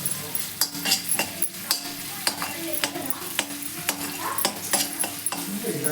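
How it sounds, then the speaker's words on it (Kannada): Mustard seeds, onion and curry leaves fry in a few spoons of oil in a pan, a continuous near sizzle punctuated by regular scraping and clinking strokes of a spoon stirring against the metal. "ಒಂದು ಸ್ಪೂನಷ್ಟು ಸಾಸಿವೆ ಈರುಳ್ಳಿ ಕರಿಬೇವು ಇಷ್ಟನ್ನು ಫ್ರೈ ಮಾಡ್ಕೋತಾ ಇದ್ದೀನಿ"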